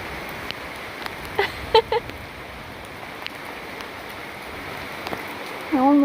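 Heavy rain pours down steadily outdoors, a dense, even hiss with a few louder drops pattering close by and a brief tonal sound near the end.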